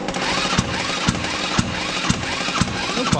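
A small scooter engine running just after being started on a hill, a rough rapid rattling drone with regular sharp knocks about twice a second, close and fairly loud.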